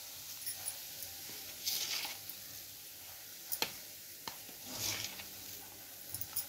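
Semolina (rava) roasting in ghee in a pan, giving a soft, steady sizzle with occasional light scrapes and clicks of stirring, faint and close.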